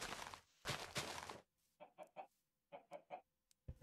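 Minecraft chickens clucking, a few short rhythmic clucks in quick groups of three, close and clear, following a couple of louder rustling bursts at the start.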